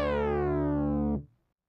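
A sustained, buzzy synthesizer tone with a bright harmonic edge from phase distortion modulation, holding steady for about a second before cutting off abruptly into silence.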